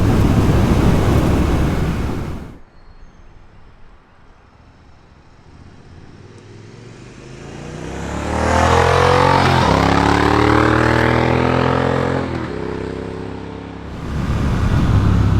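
A Triumph Speed Twin motorcycle with a 39-tooth rear sprocket accelerates on the throttle, its engine note rising in pitch beneath heavy wind roar and buffeting, then easing off.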